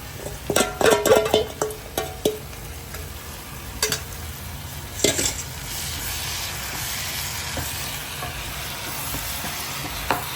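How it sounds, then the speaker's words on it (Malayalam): Chicken masala with tomato sauce frying in a pan, stirred with a utensil: a continuous loud sizzle with a burst of clattering, scraping strokes early on, then a few scattered knocks against the pan. "നല്ലോണം ഇളക്കി മിക്സായി കൊടുക്കാം"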